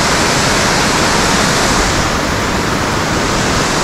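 Waterfall at Tiger Leaping Gorge roars as a dense, steady, loud wash of falling water, unbroken and close, with no voices over it.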